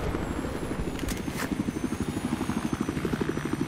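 A helicopter in Battlefield 4 thrums with a steady, rapid rotor chop, its low pulsing beats close and continuous, with a brief sharper burst early on.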